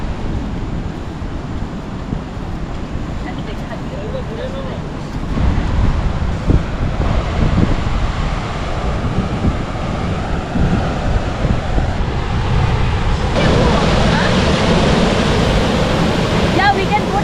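Phe Phe Falls, a waterfall in Meghalaya, gives a steady broadband roar of rushing water mixed with wind buffeting the microphone, growing louder partway through and continuing unbroken.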